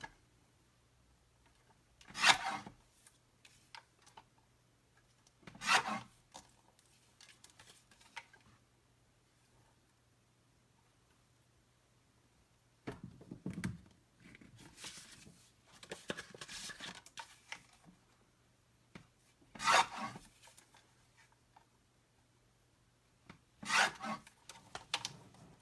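Paper card trimmed for card making, heard as a few short, faint rasping cuts spread out over a quiet room, with soft handling rustles between them.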